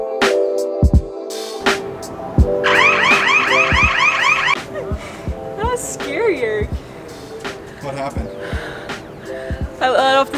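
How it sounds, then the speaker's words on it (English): A sensor-triggered alarm at a tourist site in Cuenca, Ecuador sounds loud and close, cycling through rising and falling warbling electronic tones with clicks and bursts, while people talk over it. "stand with your arms over this thing because there, an alarm goes off."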